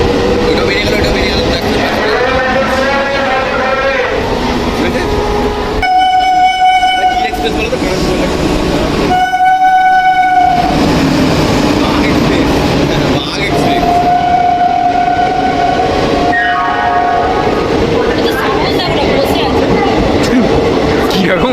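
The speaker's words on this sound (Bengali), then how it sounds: "ওই ট্রেনটা আমাদের ছিল না, তাই আমাদের আবার ওয়েট করতে হবে নতুন একটা ট্রেন আসার জন্য" A Tarakeswar line train passing close by a platform, with loud rumbling and rail clatter, several long horn blasts and repeated high tones, while people talk nearby.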